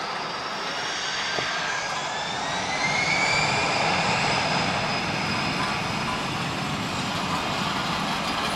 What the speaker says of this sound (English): let's listen to these engines